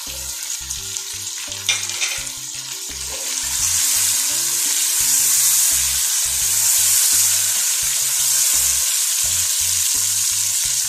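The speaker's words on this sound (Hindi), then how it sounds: "अब हम इसमें टमाटोस डाल देंगे।" Tomatoes frying in a pan for mutton yakhni pulao, a steady loud sizzle with stirring scrapes, the frying swelling louder after the first few seconds and holding throughout.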